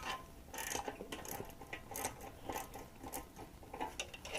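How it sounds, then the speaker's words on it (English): A hand ratchet works on an exhaust clamp bolt of a Honda Grom, with repeated quick metallic clicking strokes in uneven bursts, close and fairly quiet, no voices. "loosen this clamp up."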